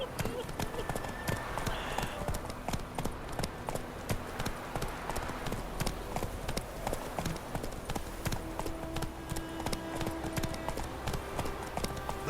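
Hooves of Roach, the horse in The Witcher 3 game, clip-clop in a steady fast rhythm throughout, close and clear under game music and a voice talking.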